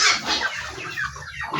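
Native chickens, including Shamo fowl, clucking in a backyard with goats nearby; a steady stream of close, busy clucks and scratchy fowl calls fills the short stretch with no talking.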